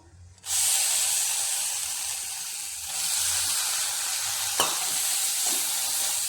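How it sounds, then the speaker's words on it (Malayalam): Chili powder stirred and fried in oil for a homemade pickle, a loud steady sizzle that bursts in abruptly and holds, with an occasional sharp scrape of the spoon against the pan. "മുളക് പൊടിയുടെ പച്ച മണം മാറുന്നത് വരെ നമുക്കിതൊന്ന് ഇളക്കി കൊടുക്കാം"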